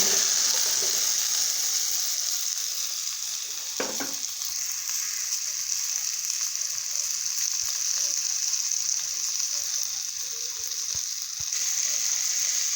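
Okra frying in a pan for a quick bhindi sabzi, a steady close sizzle and hiss throughout, with a brief scraping stir and a couple of faint clicks.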